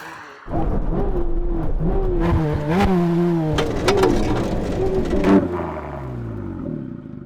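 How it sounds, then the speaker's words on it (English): A Ford GT and a Corvette Z06 brake hard from 100 mph at a line of cones on a test strip: loud, close engine roar with wavering tones, then engine notes sliding downward as the cars slow. "When we reach the cones, we're going to do a full emergency stop."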